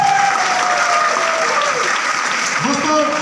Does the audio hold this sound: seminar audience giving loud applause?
yes